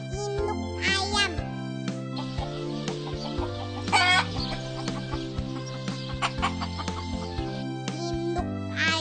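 A mother hen clucks in short bursts over steady background music with a simple repeating melody, fitting a children's lesson on farm animals.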